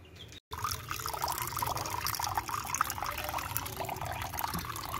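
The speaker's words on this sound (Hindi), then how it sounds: "अभी के लिए तो पानी चेंज करते हैं।" Water poured while changing the drinking water for ducks, a steady close pour and trickle after a brief gap at the start, with no talk.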